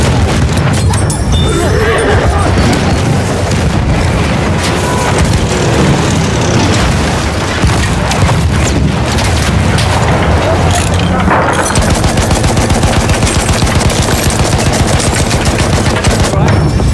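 Explosions and heavy machine-gun fire in a Battlefield battle where a tank is blown up, loud and continuous with booms and crashes, and a denser rattle of rapid shots in the last few seconds.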